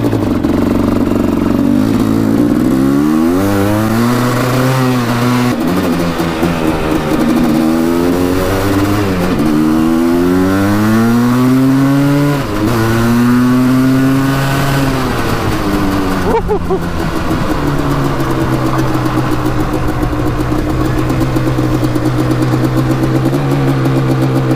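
Quadzilla Banshee 500cc quad engine revving hard and held high in the revs, loud and close, with repeated rising and falling throttle sweeps before settling into a steady high drone.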